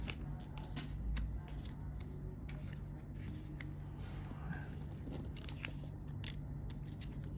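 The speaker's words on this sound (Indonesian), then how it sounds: "baru kita gunting keliling" Scissors cut around an applique pattern for sewing, giving a run of crisp snipping clicks at an irregular rhythm, close and fairly quiet over a low steady hum.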